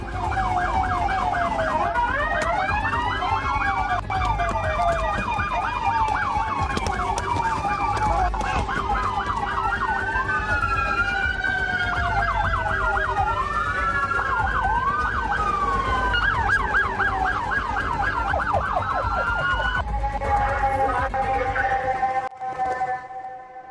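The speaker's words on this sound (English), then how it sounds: "escorted in an ambulance by 13 police cars under blue light sirens" Sirens from an ambulance and police cars under blue lights, wailing and yelping siren tones sweeping up and down continuously over traffic rumble, loud and close, then cutting off abruptly near the end.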